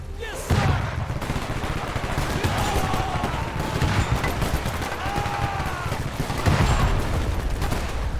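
Dense, overlapping battlefield fire from tanks shooting in the WWII strategy game Men of War 2: loud, continuous volleys of gunshots and rumbling booms, with heavier blasts near the start and end.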